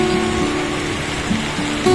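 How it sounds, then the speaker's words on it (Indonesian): Dense, steady hiss of heavy rain pouring down continuously, with a faint tonal hum running underneath. "hujan lebat banget,"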